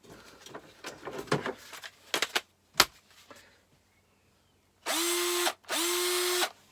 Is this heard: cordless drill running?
yes